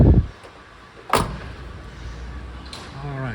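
Doors on an old Chevy truck fitted with a 502 engine are handled during a walkaround, giving a sharp metallic clunk near the start and another about a second later, with a quieter rattle toward the end.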